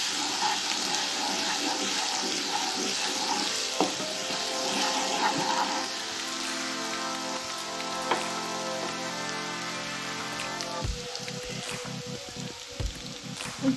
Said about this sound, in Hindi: हम लहसुन अदरक के पेस्ट को हम इसको थोड़ा सा गोल्डन कर लेंगे